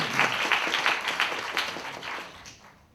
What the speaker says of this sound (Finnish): annetaanko vielä myöskin aplodit meidän upealle Elinalle, festivaalijohtajalle